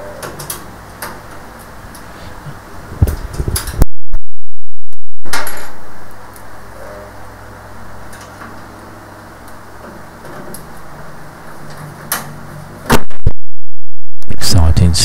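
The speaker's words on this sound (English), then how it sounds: "Exciting stuff watching somebody screw screws into a case, isn't it?" Screws being driven into a metal case, with small scattered ticking, clicking and metallic handling noises close up, broken by brief silent gaps.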